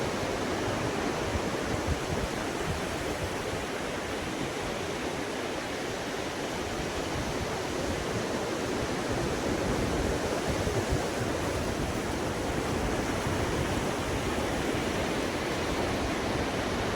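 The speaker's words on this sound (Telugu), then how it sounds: "సముద్రం అయితే పోటు మీద ఉండడం వల్ల వాగులు ఎక్కువ వస్తున్నాయి" Breaking sea surf at high tide on an Indian fishing beach forms a dense, continuous roar of rushing water that stays steady and fairly loud throughout.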